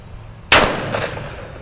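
A single sharp Ruger Vaquero revolver shot fired at a target about 20 feet away, a loud crack with a short ringing decay, standing alone in a quiet outdoor setting.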